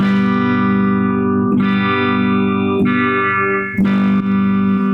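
Electric guitar played through a cheap Temu vintage phase pedal turned all the way up: loud sustained chords with a sweeping phaser wash, restruck about every second or so, each ringing out fully, no speech.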